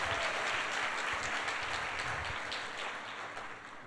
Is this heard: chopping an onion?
no